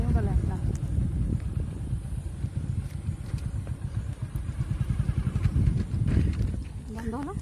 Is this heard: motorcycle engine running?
yes